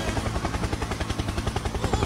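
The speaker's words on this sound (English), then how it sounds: "Helicopter! Helicopter!" A helicopter's rotor throbs in a fast, steady, even pulse, loud and continuous with no other sounds over it.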